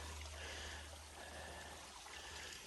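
Creek water flows across a gravity-fed water system site, a steady broadband trickle and rush running continuously, close and fairly loud, with no voices over it.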